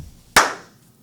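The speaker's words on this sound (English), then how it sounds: "Give me a clap." A single sharp hand clap for audio sync, close and loud, with a quick decay into near silence.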